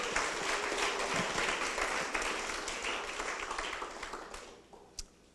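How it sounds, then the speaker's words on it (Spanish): Applause from an audience at a religious talk about the Virgin Mary: dense, fairly distant clapping that fades out, ending with one last sharp clap. "Un aplauso a la Virgen por esta promesa."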